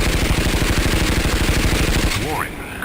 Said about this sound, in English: Warwick, cover fire while they fall back.